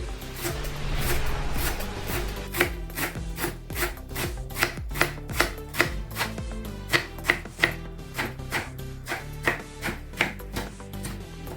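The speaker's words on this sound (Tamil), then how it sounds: "இந்த மாதிரி இறுக்கி பிடிச்சிக்கிட்டு நல்லா நைஸாகவே வெட்டிடுங்க" A knife finely chopping rolled spinach leaves on a board, a fast run of crisp, close cuts that settles into a steady rhythm of distinct sharp chops.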